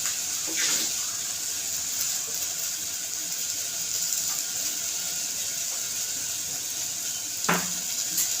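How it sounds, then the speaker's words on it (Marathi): Water poured into a pan of hot spiced oil while making misal pav brings a broad hissing, rushing sizzle that runs steadily, with a couple of brief utensil knocks near the start and end. "पाणी ओतायचं मी थोडं तुम्हाला हवं तेवढं पाणी ओतायचं"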